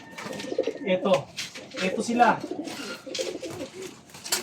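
Racing pigeons in a fancier's loft coo in low, repeated bursts while someone speaks Filipino over them.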